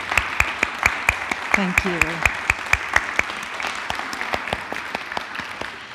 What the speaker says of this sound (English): let us give you another round of applause